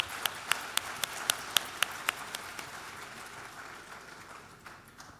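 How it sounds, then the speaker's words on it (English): An audience claps at a university event, a brief spread-out round of applause with a few crisp nearby claps standing out early before it thins and fades away. "another round of applause"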